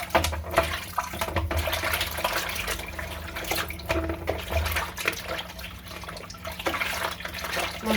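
Fish being washed under a running tap with warm water, a steady close splashing stream with fluctuating gushes as the fish is rinsed and handled.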